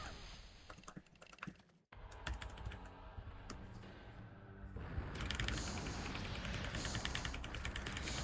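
Fast, continuous typing on a computer keyboard with rattling key clicks throughout, dropping briefly to near silence before resuming louder and denser, close and busy.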